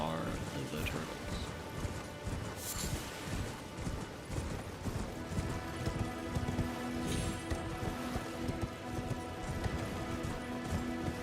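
A horse gallops in the video game Elden Ring, rapid hoof beats pounding under a steady wash like falling rain, with a faint whinny and game sounds mixed in.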